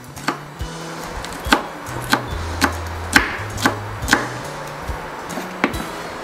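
A knife chops siling labuyo chili into small pieces on a board for Maranao palapa, giving about a dozen sharp, close taps at an uneven, unhurried pace.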